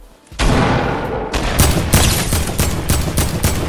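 Loud gunfire in Fortnite Battle Royale, close rapid shots fired in a fast run of repeated bursts over dense, noisy game sound.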